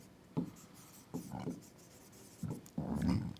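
A pencil writes numbers on paper in short scratchy bursts separated by pauses, soft and close, with a longer stroke at the end.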